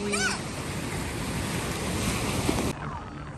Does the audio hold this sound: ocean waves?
yes